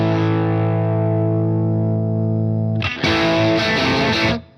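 Electric guitar on the bridge pickup through a Boss IR-2 Marshall amp simulation, pushed into heavy distortion: a held chord rings and slowly decays, then a burst of fresh, loud strummed chords cuts off abruptly.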